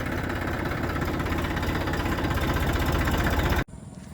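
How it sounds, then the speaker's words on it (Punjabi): A Massey Ferguson 241 tractor engine idles with a steady, even chugging rhythm, close and loud, then cuts off abruptly near the end. "ਬਿਲਕੁਲ ਸਾਇਲੈਂਟ ਚੱਲਦਾ ਟਰੈਕਟਰ ਹੈ"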